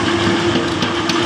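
A motorbike engine runs steadily with a constant low hum and drone, close and loud, with no voices.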